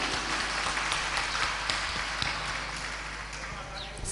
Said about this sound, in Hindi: तो आप ताली तो बजाओ उनके लिए।